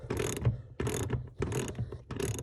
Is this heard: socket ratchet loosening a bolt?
yes